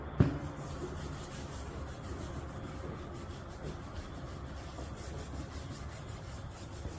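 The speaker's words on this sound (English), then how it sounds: "Now we're just using the handy dandy grease and wax remover to clean up all these years of where people have handled it since 1964." A 1964 Ford Fairlane steering wheel is rubbed clean with grease and wax remover, making a faint, continuous scrubbing and rubbing sound that follows a brief knock at the start.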